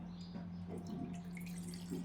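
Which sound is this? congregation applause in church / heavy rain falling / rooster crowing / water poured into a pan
water poured into a pan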